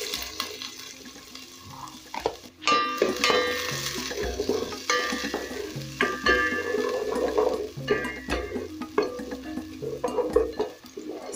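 Onions land in hot cooking oil and sizzle steadily, with stirring scrapes and clatters in a pan nearby and no talking.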